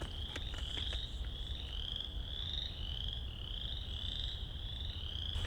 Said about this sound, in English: Frogs? Frogs.